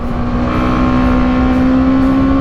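A BMW G310GS single-cylinder motorcycle engine revs high around 7000 to 8000 rpm, a loud, sustained steady drone with a strong tonal hum, heard close and alone without talk.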